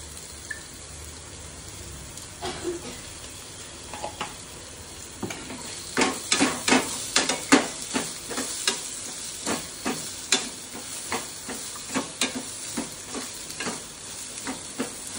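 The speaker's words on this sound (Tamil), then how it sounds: "இந்த ஆனியன் வதங்கிறதுக்கு தேவையான அளவுக்கு சால்ட் சேர்த்துக்கிறோம்" Onions sautéing with salt in a pan for a moringa flower and egg stir-fry, a steady close sizzle broken by a regular run of sharp scraping stirs that grow louder and quicker partway through, with no talking.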